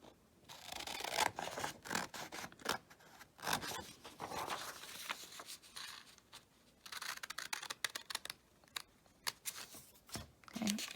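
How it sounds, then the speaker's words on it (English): Scissors snip steadily through paper along a solid line for a math class cut-out, a close run of repeated crisp cuts and rustling with brief pauses, no talking. "You're going to cut along the solid line"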